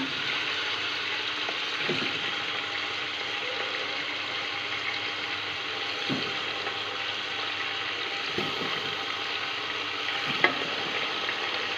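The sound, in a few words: beef for nihari frying in a pan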